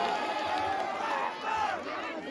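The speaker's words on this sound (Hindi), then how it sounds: "एक बार जोरदार ताली दो मुझे आप सभी के लिए। जोरदार तालियां भाई, जोरदार तालियां।" A large crowd at a mela in Jauljibi roars and cheers continuously during a live stage show, a dense steady wash of voices with slight swells and no clear individual clapping.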